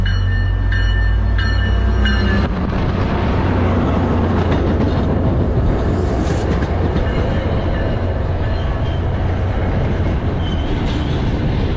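An MBTA commuter rail train rumbles loudly nearby with a steady clatter of wheels on track, a few brief tonal squeals at the start, no talking.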